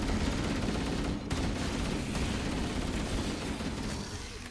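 Sustained gunfire in the Halo Campaign Evolved video game, a dense, continuous barrage of rapid shots and blasts filling the whole stretch, loud and close with no talk over it.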